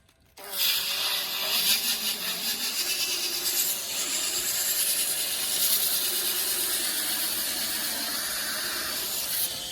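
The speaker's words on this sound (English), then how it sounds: "there's little burrs on there we need to clean off with a bit of sandpaper" Sandpaper rubbing burrs off a metal part from a Holden FC Grey motor, a continuous close hissing scrape that starts abruptly and holds steady to the end.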